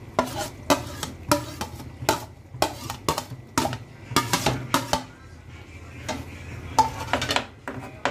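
Mustard, poppy seed and green chilli paste being stirred into gravy in a cooking pan, with a spoon clinking and scraping against the metal in repeated, fairly close strokes.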